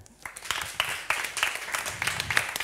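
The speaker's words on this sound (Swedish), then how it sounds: "En stor applåd." An audience claps and applauds to welcome a panel at a public debate night in Sweden, a steady broadband patter of many hands with scattered sharper claps running throughout, fairly distant in the room.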